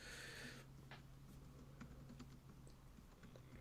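Quiet, rapid tapping of a computer keyboard in irregular bursts over a low electrical hum, with no voices.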